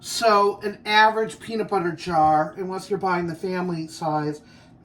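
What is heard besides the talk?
No everyday noise stands out behind the speech.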